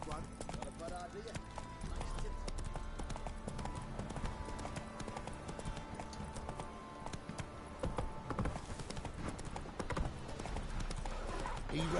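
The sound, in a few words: horse galloping in The Witcher 3: Wild Hunt video game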